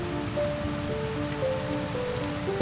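Steady rain pattering on a surface during a roe deer hunt in the Urals, a continuous wash of drops with faint tonal hums running underneath.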